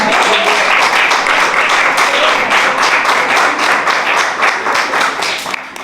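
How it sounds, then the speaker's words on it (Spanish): Church congregation applauding a religious message, dense steady clapping throughout at close range, fading slightly toward the end. "Denle un aplauso al Señor."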